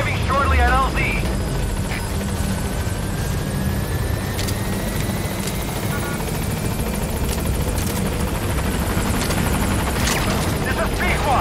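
The Pequod helicopter from the Metal Gear Solid V game approaches a landing zone, a loud, constant rotor thrum and engine roar filling the scene, with a brief radio voice at the start.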